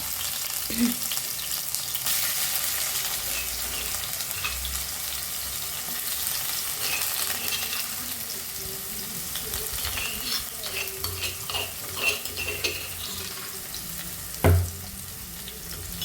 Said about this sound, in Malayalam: ചട്ടി ചൂടായിട്ട് നമുക്ക് വെളിച്ചെണ്ണ ഒഴിച്ചു കൊടുക്കാം അപ്പോൾ ഞാൻ വെളുത്തുള്ളിയും ചെറുള്ളിയും ചതച്ചത് ഇട്ട് കൊടുക്കാൻ പോകട്ടോ